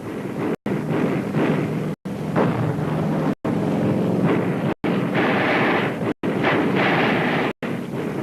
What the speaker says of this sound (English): The battle wagon puts every useful gun into action.